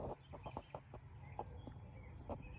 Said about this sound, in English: And listen to the birds.